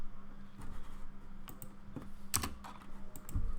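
Keys clatter on a computer keyboard while Python code is typed, a steady run of quick irregular clicks with a few louder keystrokes, close and alone.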